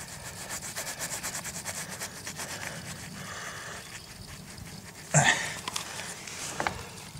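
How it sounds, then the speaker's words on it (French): Gloved hands gently scrape grime off an MTD ride-on mower in soft, repeated rubbing strokes, ending with a sharper scuff and a few faint knocks. "on va gratter gentiment avec les gants"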